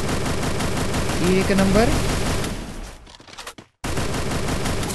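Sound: gunfire in the video game Free Fire

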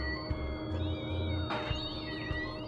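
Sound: cats meowing in video game Voodoo Vince: Remastered

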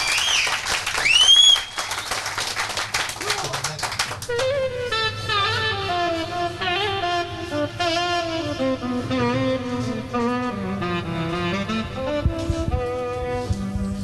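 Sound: audience applause

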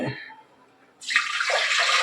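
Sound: water poured into rice in a cooking pot

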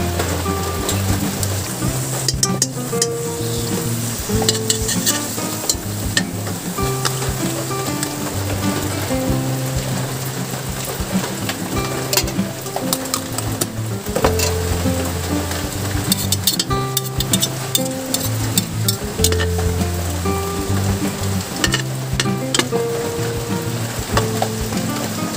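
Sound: margarine sizzling in pan for spaghetti sopas

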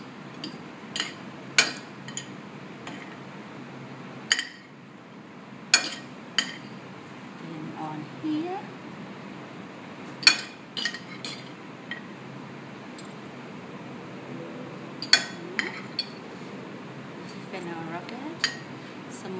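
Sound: mixing prawns with salt and olive oil in a bowl

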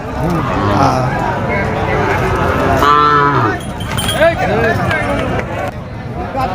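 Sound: cow mooing at a cattle market

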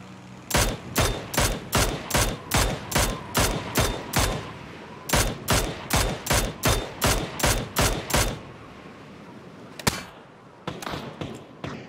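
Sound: gunfire from a video game, shooting from a glider

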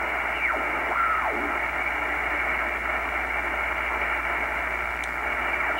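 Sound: digital utility signal on the 120 meter shortwave band

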